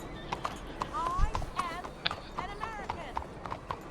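Horse hooves clip-clop at a steady, even trot in the video game Red Dead Redemption 2, with faint whistling tones drifting over the rhythmic beat.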